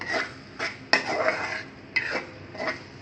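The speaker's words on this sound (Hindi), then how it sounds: "अब हम इसमें ये भुने हुए बैंगन मिक्स कर देंगे।" A spoon scrapes and stirs roasted eggplant in a pan for baingan bharta, in a few rhythmic rasping strokes with light metallic clinks, close and moderately quiet with no speech.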